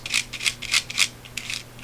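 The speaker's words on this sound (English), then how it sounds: "Get them with a toothbrush that's only slightly moist in the cleaner." A slightly moist toothbrush scrubs between the keys of a TI-30XA calculator. Short, close, bristly brushing strokes repeat in a quick, uneven rhythm, with no voices.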